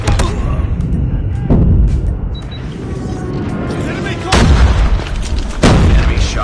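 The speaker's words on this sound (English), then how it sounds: "Enemy airstrike incoming." Enemy airstrike explosions in the Call of Duty Mobile video game: several heavy booming blasts roll in at intervals over continuous battle noise, loud and close.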